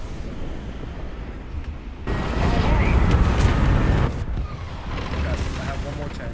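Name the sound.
artillery strike explosions in the video game War Thunder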